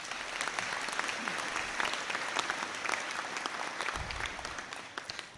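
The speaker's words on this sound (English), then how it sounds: "A round of applause, please." Steady applause from a crowd at a university degree-conferring ceremony fills the whole stretch, dense clapping at an even level from start to finish.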